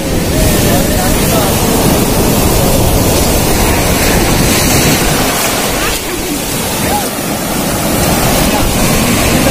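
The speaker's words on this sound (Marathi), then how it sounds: "हे बघा कसल्या लाटा येतात त्या." Sea waves crash and wash in at Kasheli beach on the Ratnagiri coast of Konkan, a loud, unbroken roar of surf mixed with heavy wind buffeting the microphone.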